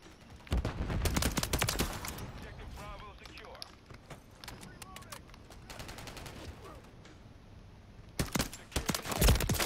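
Rapid bursts of automatic gunfire crackle in a video game, coming in clustered volleys at the start, middle and end, with a player talking over the action.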